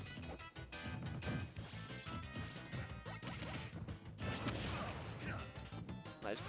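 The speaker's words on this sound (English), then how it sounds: "Oh, and another mortar." Mortar shells from Snake explode in a Super Smash Bros. match, heard as repeated crashing blasts and impacts amid busy game effects, with a commentator talking over them.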